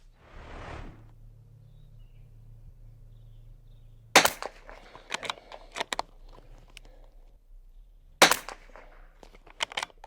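Two sharp, loud reports from a Bergara BMR .22 Long Rifle, spaced about four seconds apart, each followed by short clatters and rustling handling noise.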